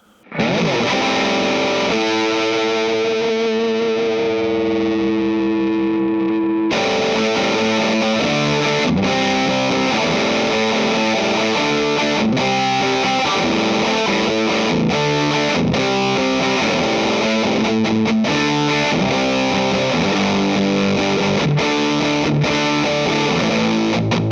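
Loud electric guitar through a Dark Mouse overdrive pedal plays a ringing chord, then launches into a driving, fuzzy pop-punk riff of palm-muted and open chords.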